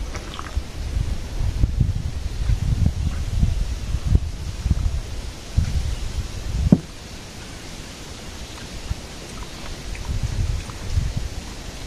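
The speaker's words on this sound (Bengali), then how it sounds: "এখন বাতাস আসছে" Wind blowing through a village on a cloudy afternoon, a soft breathy rush with gusts rising and falling and light leaf rustling, steady ambience with no talking.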